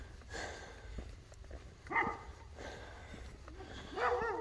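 A small puppy met on an afternoon hike makes a few short whimpers and yips at low volume, spaced apart, with faint rustling steps between them.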